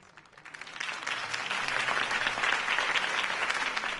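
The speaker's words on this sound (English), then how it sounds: "If only Mr. Wayne, my campaign's largest backer, could have heard that applause" Crowd applause after a campaign speech in Batman: The Telltale Series swells from a few claps into steady, dense clapping that holds to the end.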